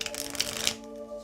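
Tarot cards shuffled by hand in a brief soft riffling burst, close and quiet, with no talk.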